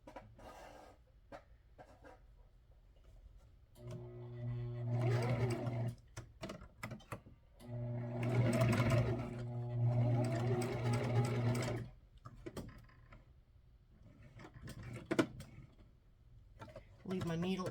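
A home sewing machine stitches clothing in two steady, rhythmic humming runs of several seconds each, with quiet handling noises and soft talk in the pauses between them.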